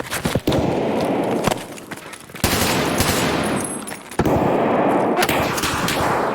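Gunshots in a PvP raid of a looter shooter game set in Labs, several loud sharp cracks and bursts over a steady rumbling background, coming close and in uneven clusters.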